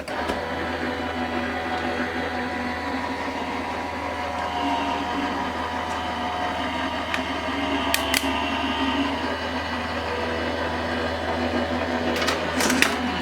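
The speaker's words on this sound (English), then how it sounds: "I'm using my Gemini machine, so I'm going to use my base plate, my plastic shim and then my little cutting plate on the top and we'll run that through." A Gemini die-cutting machine feeds a stacked base plate, plastic shim and cutting plate through its rollers, giving a steady mechanical motor drone with a few faint clicks toward the end.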